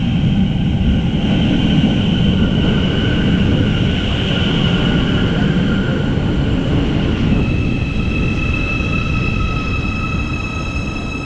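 A CAF Nexio train of the Schönbuch Railway arriving at Böblingen station, a steady loud rolling rumble with sustained high electric whines and a tone that shifts partway through.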